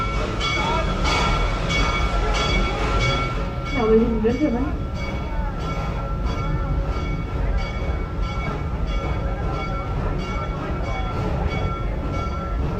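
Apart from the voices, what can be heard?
theme park train ride at Busch Gardens Tampa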